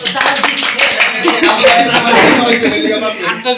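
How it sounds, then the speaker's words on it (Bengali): A group claps loudly and continuously for the winner of a puffed-rice eating contest played with toothpicks, with dense overlapping hand slaps, laughter and voices mixed in close by. "রাজুর জন্য একটা হাততালি দিই আমরা"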